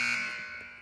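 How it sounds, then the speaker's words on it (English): A buzzer blares loud and steady as a single sustained electronic drone, starting strong and fading slightly over under a second, with no talking. "I got a buzzer right here."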